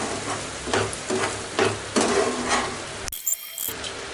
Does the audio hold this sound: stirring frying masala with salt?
yes